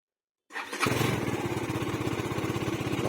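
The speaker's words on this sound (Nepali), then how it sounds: "र बाइकको चाहिँ कोल स्टार्ट गर्छु अब है।" A motorcycle engine cranks and catches after a brief silence, then settles into a loud, steady, rapid idle close by.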